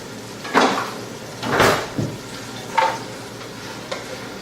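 Black beans are stirred in a Dutch oven with a wooden utensil over medium-low heat, making four separate scraping strokes against a soft simmering sizzle, each stroke close and distinct.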